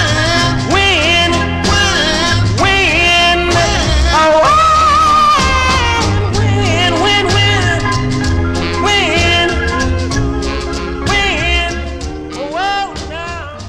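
A 1962 soul single on VJ Records, a full, loud band arrangement with a steady bass groove and a lead singer's voice dominating throughout, fading slightly at the end.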